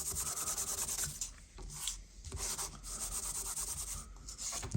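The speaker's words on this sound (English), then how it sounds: "just take yourself an embossing buddy, something just to take away any of the stick from that vellum" An embossing buddy is rubbed over vellum in soft, continuous scrubbing strokes with brief pauses, close and fairly quiet, with no talk.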